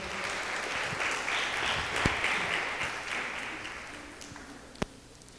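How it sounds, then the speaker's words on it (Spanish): An audience applauds the models at a church event, a steady wash of clapping that swells slightly and then fades toward the end, with a few sharper individual claps standing out. "Un aplauso para los modelos."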